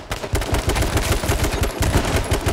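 Rapid automatic gunfire in H1Z1 King of the Kill rattles in dense, near-continuous bursts, loud and close, with no talking over it.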